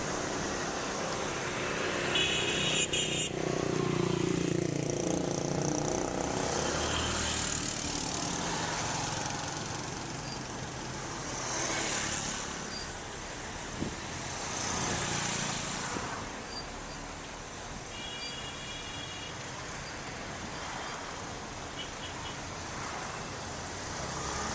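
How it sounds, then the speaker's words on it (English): Busy street traffic in Monrovia, Liberia, with cars and motorcycles passing: a continuous engine rumble and road roar, individual vehicles swelling and fading as they go by, with a few faint horn-like tones. "Traffic in Monrovia was unbelievable."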